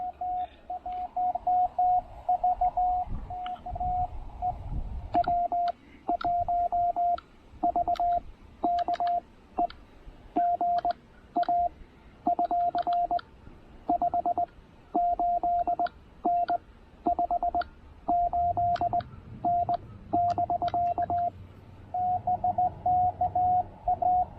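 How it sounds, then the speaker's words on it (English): Morse code tone keyed in steady dits and dahs, with scratchy clicks and crackles from dirty key contacts breaking through each keyed note, over faint radio hiss and low rumble. "His contacts are a little dirty on his key."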